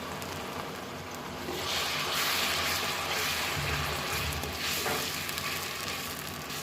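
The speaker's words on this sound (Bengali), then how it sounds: "পেঁয়াজ দুটা আদা পেঁয়াজ রসুন এগুলো একটু দু মিনিট ভাজবো" Onion, ginger and garlic sizzle loudly and steadily in hot oil, with a brief stirring surge in the middle and no voices.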